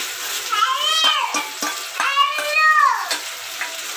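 Onion, ginger, garlic, tomato and green chilli paste hits a hot chicken pan with a steady frying sizzle and stirring, while high, wavering cat-like cries rise over it several times.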